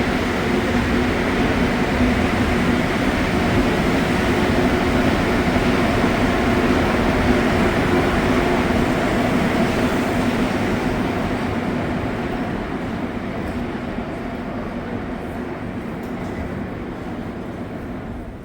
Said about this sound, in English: there's the MR73 departing Peel Station,